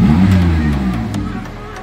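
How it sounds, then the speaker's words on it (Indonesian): A 2009 Xenia car idles at around 1000 rpm: a loud, close, steady low engine hum with a faint tapering swell as the revs settle. "kita hidupkan mobilnya dan kita lihat di idling kurang lebih 2 menit di idling di 1000"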